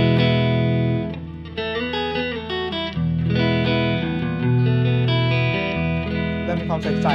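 An electric guitar plays a clean melodic phrase with sustained notes and chords through a NUX Amp Academy amp simulator with the treble boosted, bright and close with no talking.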